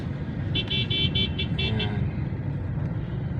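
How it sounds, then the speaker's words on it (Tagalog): Congested road traffic near Walter Mart: a steady low rumble of engines with a run of short car-horn toots in quick succession early on, then the traffic drones on without horns. "Traffic tayo ngayon dito sa may part ng Walter Mart"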